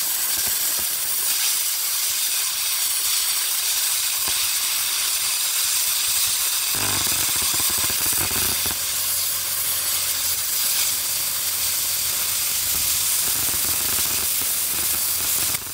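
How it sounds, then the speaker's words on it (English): A Parkside PPS 40 B3 plasma cutter set to 28 amps cuts a 3 mm steel tube with a loud, continuous close hiss. Partway through, the hiss shifts to a rougher tone with a low hum underneath. "Now adjusting and increasing the current at 28, and let's cut this steel tube."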